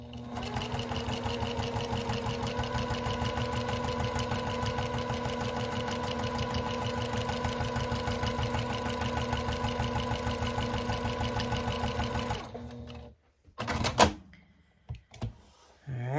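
A sewing machine runs steadily at close range, stitching a straight quilting line through a small fabric mug rug for about twelve seconds, then stops, followed by a few brief handling knocks and rustles.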